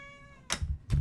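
A pet cat in the Sims 4 video game gives a short, quiet meow after a held electronic tone, followed by soft bumps.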